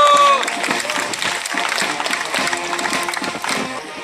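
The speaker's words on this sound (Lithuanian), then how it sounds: "Pasveikinkime juos plojimais" A crowd at a town parade in Ariogala claps steadily for marching participants, a dense, close, continuous patter of many hands with some voices mixed in.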